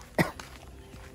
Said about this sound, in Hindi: अपना जो खांसी है ना वो अभी भी है